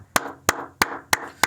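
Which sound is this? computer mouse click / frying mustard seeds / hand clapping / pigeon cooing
hand clapping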